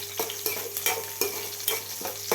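Onions frying in a pan for a Telangana-style ridge gourd dal curry are stirred with a spoon, a steady sizzle punctuated by regular scraping strokes, close and alone without talk.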